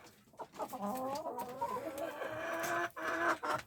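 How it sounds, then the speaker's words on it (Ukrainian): A Faverolles hen clucking close by in a run, with a rising, drawn-out series of throaty clucks that continues steadily for a few seconds, no talking. "Оце стала квохтать."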